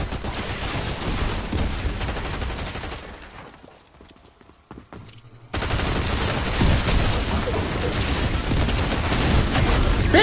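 Gunfire from enemies in the Fortnite video game, with dense, loud bursts of rapid shots that drop away briefly mid-clip and then resume in a sustained barrage.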